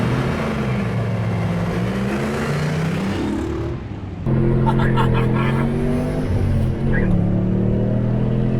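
A Ferrari-engined Lancia Thema and a Maserati Spyder Biturbo in a drag race, engines revving hard and climbing through gears with a shift dip midway, loud and close with people talking over them.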